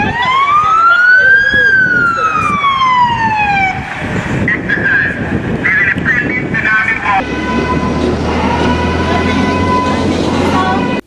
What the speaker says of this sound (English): the speed of the fire truck as it drove by sounding the alarm